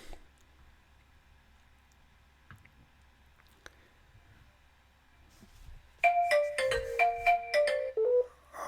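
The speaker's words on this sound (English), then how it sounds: "Let me kind of silence my phone here" A mobile phone ringtone starts suddenly after a quiet stretch of room hum, playing a bright electronic melody of quick repeated notes, loud and close, then cuts off near the end.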